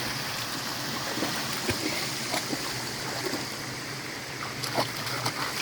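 Steady rushing and gurgling of flowing creek water fills the scene, with occasional small splashes and ticks over the constant wash.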